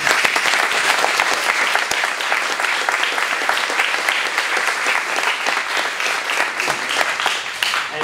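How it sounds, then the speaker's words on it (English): An audience at a virtual reality meetup applauds, a dense, sustained clapping that stays loud and even throughout, with no talk over it. "So if you please help me give them a round of applause."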